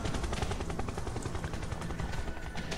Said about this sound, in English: There goes the chopper.